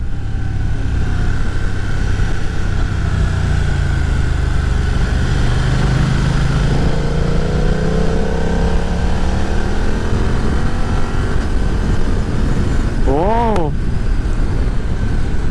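A 2020 BMW F900R Sport Style roadster motorcycle engine revving while being ridden, continuous loud engine drone with rising and falling pitch, under heavy wind rush and someone talking over it.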